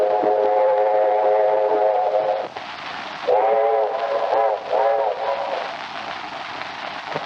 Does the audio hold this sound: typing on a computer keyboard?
no